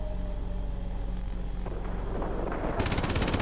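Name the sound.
rear gunner machine gun firing, World of Warplanes video game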